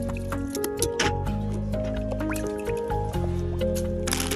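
Water splashes and sloshes as a rice cooker pot is rinsed outdoors at a fishing spot, with wet squishing and dripping sounds under loud background music.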